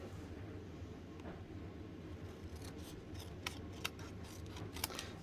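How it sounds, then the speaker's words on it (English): Paper is trimmed for a handmade card with scissors or a trimmer, giving a steady soft rasping cut under low background hum, with a few sharp snips near the end. "I'm just going to trim this off."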